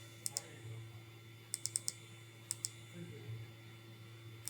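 Computer mouse clicks while working in a spreadsheet-style database program, a few sharp, quiet taps scattered in small clusters over a low steady hum.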